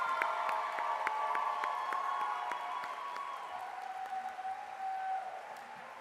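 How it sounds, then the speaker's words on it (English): Audience applause at a nursing white coat ceremony, steady sustained clapping from a crowd in a hall, moderately distant, gradually tapering. "Let's give our nursing students another really big round of applause."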